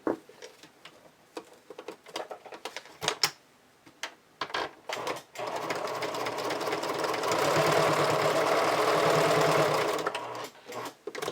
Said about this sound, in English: use a tight zigzag stitch to anchor that in place